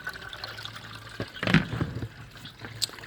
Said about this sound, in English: the water's still going through nice and clean.